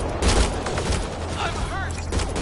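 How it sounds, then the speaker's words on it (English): Gunfire in the Mass Effect Andromeda video game: a dense, close fusillade of rapid shots over busy combat noise, with brief electronic whoops in the middle. "Naya, shoot it!"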